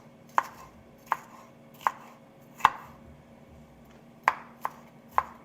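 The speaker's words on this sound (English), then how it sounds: "let's get these peppers out the way. A little chop, chop, chop." A knife chopping peppers on a cutting board, seven sharp separate chops in an uneven rhythm with pauses between them, close and clear with no voices.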